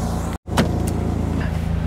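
Mitsubishi 3000GT converted to a 5-speed manual, heard from inside as its engine drones steadily at low revs, interrupted by a brief dropout near the start before the hum resumes unchanged.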